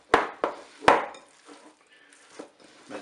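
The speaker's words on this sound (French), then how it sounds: "ajouter à ma viande hachée la chair de tomate et l'oignon. Et je vais mélanger tout ça." Minced meat with tomato flesh and chopped onion being mixed by hand in a bowl, giving a few sharp wet knocks and slaps early on, then softer scattered squelching and contact sounds, close and fairly quiet.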